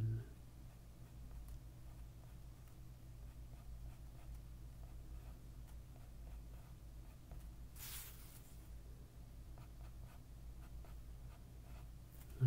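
A pen scratches on paper while someone draws, producing soft, close strokes in short irregular bursts against a quiet background.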